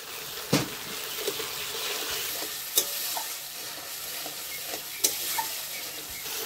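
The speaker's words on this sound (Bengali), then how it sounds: "সামান্য একটু জল দিয়ে ভালো করে কষিয়ে নেব" Masala for a vegetarian paneer aloo dalna sizzles in a pan with a splash of water while a spoon stirs it, a steady soft frying hiss broken by a few sharp scraping clinks, close and quiet.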